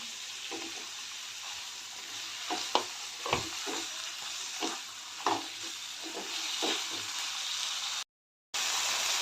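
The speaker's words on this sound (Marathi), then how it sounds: "मी बटाटे बारीक चिरलेला बटाटा घालते ते पण आपण थोडा वेळ परतून घेऊया" Finely chopped potatoes are sautéed in a pan with onion, tomato and garlic, a steady, hissing sizzle with a run of spoon scrapes and taps through the middle, then a brief silence near the end.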